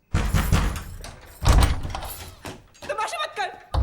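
A door in an action movie scene is banged and forced with repeated heavy thuds and slams, loud and close, while someone shouts over the impacts.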